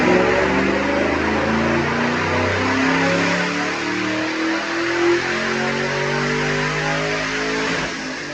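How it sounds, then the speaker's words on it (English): 2010 Mustang GT with a Vortech supercharger on a dyno, engine revving hard in a long sustained pull with rising harmonic tones, loud and close throughout with no voices. "right now, check out this dyno pull."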